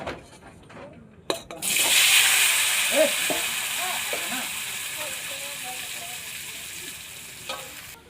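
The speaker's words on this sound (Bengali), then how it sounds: "আমি আলুগুলো ভাজবো এখন" Potatoes frying in oil tinted with a little colour powder, a steady loud sizzle rising suddenly after a brief clatter and holding through to the end, with faint speech heard underneath.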